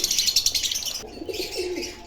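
Pigeons in a pigeon colony: birds chirp rapidly in a quick rhythmic run, then softer low cooing follows, with the sounds close by.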